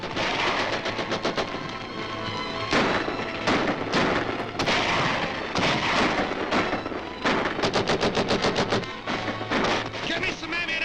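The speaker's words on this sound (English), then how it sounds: "They've got a cannon." A 1941 film serial battle scene carries loud bursts of rapid gunfire and booming cannon shots, arriving in repeated volleys with brief gaps between them. Voices can be heard amid the shooting.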